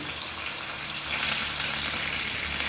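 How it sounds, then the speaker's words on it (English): Chilies frying in a pan for a Goan coconut-free mackerel curry give a steady, close sizzle with a faint watery hiss and no talk. "chilies, and fry this nicely"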